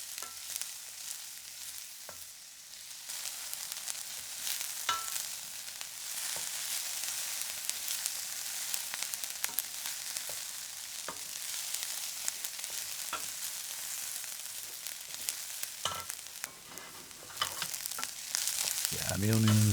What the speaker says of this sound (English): Get these onions in, fry them off a bit.